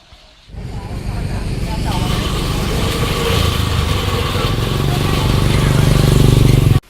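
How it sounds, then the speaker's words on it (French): Scooters and motorbikes on a road in northern Thailand, with a small engine rising from idle to a louder, steady buzzing rev close by that cuts off abruptly at the end. "Tout le monde circule en scooter ici."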